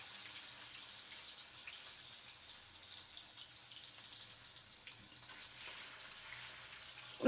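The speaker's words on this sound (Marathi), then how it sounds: "यामध्ये टोमॅटो चांगला तेलामध्ये परतू द्यायचा" Tomatoes sautéing in hot oil with mustard seeds and cumin for a village-style potato rassa bhaji, giving a faint, steady hiss of sizzling that runs unbroken throughout with no talking.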